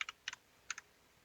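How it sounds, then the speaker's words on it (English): A computer keyboard is typed on in short bursts, three quick pairs of crisp key clicks, close and clear against a quiet room. "So then I can just type in my years here."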